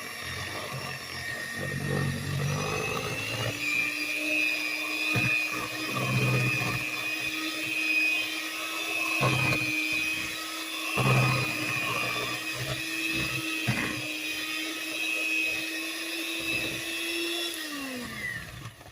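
A blender purees cooked butternut squash for pie filling, giving a steady whirring motor drone with a high whine that runs almost the whole time, a few brief knocks and pitch shifts partway through, then the motor winds down near the end.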